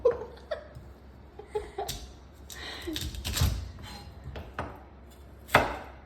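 A knife chops food on a cutting board in a series of sharp, irregular close knocks, with soft laughter and voices in between.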